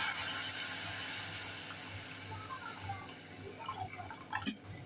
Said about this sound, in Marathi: आता आपण दोन वाटी पाणी घालूया